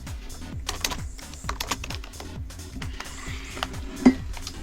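Computer keyboard typing, close and fairly quiet, with irregular bursts of clacking keystrokes and brief pauses, ending with a sharper thump.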